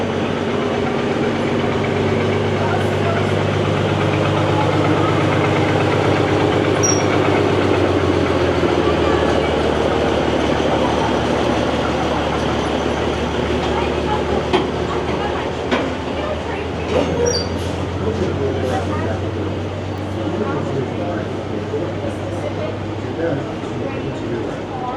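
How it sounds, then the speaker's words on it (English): A Six Flags America amusement park train ride rumbles steadily along with a low engine drone and faint clattering, with people talking over the continuous rolling noise. "Let's hop aboard this Capital Railroad. A train that goes a little bit slower,"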